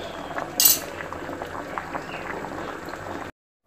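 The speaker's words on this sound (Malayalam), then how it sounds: "കപ്പ ഇവിടെ നല്ലതുപോലെ തിളച്ച് വന്നിട്ടുണ്ട്." Tapioca (cassava) pieces boiling in salted water in a pot on a Kerala kitchen stove, a steady close bubbling and simmering hiss with a brief metallic clink early on, no voices.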